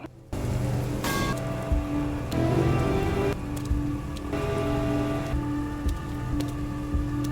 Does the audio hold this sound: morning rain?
yes